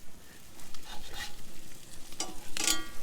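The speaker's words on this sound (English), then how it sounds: "Couple of minutes on each side." Blackened bass fillets fry in melted butter in a pan, a faint, soft sizzle with a few brighter crackles and spits near the end.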